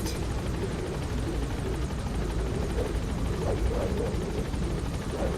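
Helicopter gaining altitude in the video game Metal Gear Solid V, a steady, loud rotor and engine drone with rhythmic blade chop running throughout, no talking.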